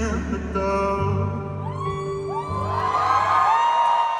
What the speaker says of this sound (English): Kind of forgot that there was a live crowd there.